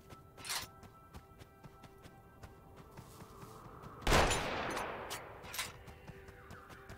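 Sniper rifle shots in the western game Colt Canyon, a few sharp isolated cracks over a quiet background of small clicks, with one heavier blast in the middle that trails off slowly.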